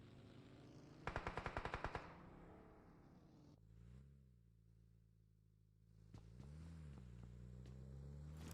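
Gunfire in the PUBG Mobile battle royale game during a tournament match: a quick burst of automatic shots near the start, followed by steady vehicle engine drone that rises and falls, with no talk.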